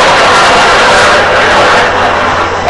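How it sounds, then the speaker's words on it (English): An airplane passes overhead as a steady, broad roar that swells slightly and then eases, loud and continuous with no talking over it. "Airplane there."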